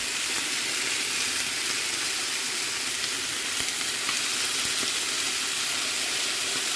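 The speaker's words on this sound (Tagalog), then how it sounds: "nagluluto ako ng chicken wings" Chicken wings frying in a pan with no added oil, rendering their own fat: a loud, dense, unbroken sizzle crackles evenly from start to finish, close up and alone.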